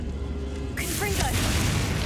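A Confringo blasting spell from Hogwarts Legacy goes off midway: a sudden bright burst with a short whooshing, crackling tail that swells into a broad rumbling blast, loud and close.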